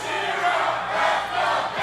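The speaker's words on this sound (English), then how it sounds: "Cowboy Shera chants deafening here in historic Davis Arena." A wrestling crowd in historic Davis Arena chants for Cowboy Shera, a loud, continuous roar of many voices that swells and dips in waves.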